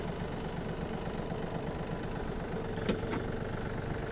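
A Yanmar AF-250 Japanese mini tractor runs with a steady, low diesel drone and even vibration, close and unbroken, with a brief clunk near the end and no talk.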